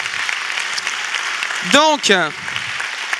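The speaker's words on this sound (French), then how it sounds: "on peut l'applaudir." A crowd claps steadily throughout, with a voice briefly speaking over the applause partway through.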